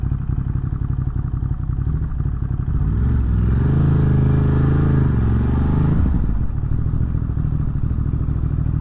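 A de-catted Ducati motorcycle engine roars close by in New York City, revving up and holding a higher pitch mid-ride before dropping back to a rough, clattering rumble.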